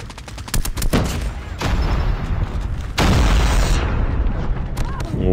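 Rapid AK rifle fire in the mobile shooter Call of Duty Mobile, loud and close: several quick cracking shots at first, then longer sustained bursts of automatic gunfire with booming tails.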